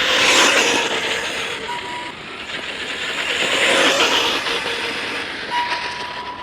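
Corally 4S brushless RC car running at full throttle, a high electric whine swelling as it passes close and fading, then surging again, fairly loud with no talk.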